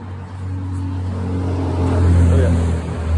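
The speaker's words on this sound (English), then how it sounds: "there's a pulling tractor" A pulling tractor's engine runs outdoors near a farmyard, a steady low drone that swells somewhat toward the end and continues for the whole stretch.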